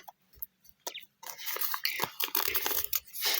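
Crinkly paper rustling and tearing close up as a paper surprise packet is opened, starting with a few soft taps, then a dense burst of crackling handling.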